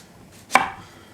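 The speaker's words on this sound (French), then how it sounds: "On va s'occuper notamment de l'aubergine. Pour faire ça, on va commencer tout simplement par couper un petit peu" A single sharp knife cut through the edge of an aubergine on a board, one crisp close chop with a short tail, otherwise quiet.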